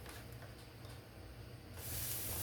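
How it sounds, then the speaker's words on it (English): Non-stick cooking spray is sprayed into a pan preheated to medium-high, starting as a low steady hiss and then swelling into a louder, bright spray near the end, with no talking. "Make sure you spray it with non-stick cooking spray."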